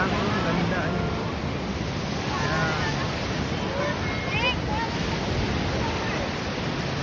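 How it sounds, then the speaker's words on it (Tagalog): Big sea waves roll and wash continuously along a beach where relatives are swimming, a loud steady surf roar mixed with wind buffeting the microphone, with people talking faintly underneath. "Ang laki ng alon."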